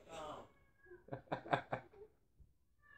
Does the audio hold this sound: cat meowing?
yes